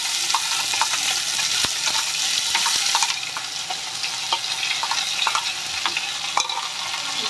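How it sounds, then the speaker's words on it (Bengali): Shrimp paste sizzles and fries in a pan for Bengali thor chingri bharta while a utensil stirs it, with steady loud frying hiss and scattered scraping clicks throughout, no voices. "নেড়ে চিংড়ি মাছের পেস্টটা দিয়ে দেব, এই ঠোঁটের পেস্টটা দিয়ে দেব।"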